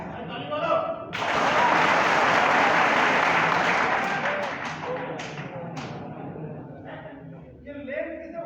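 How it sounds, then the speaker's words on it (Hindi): Group clapping breaks out in a safety-training session, a loud burst of many hands that swells, holds for a few seconds, then thins to scattered claps, with an instructor talking before and after. "ताली बोलो"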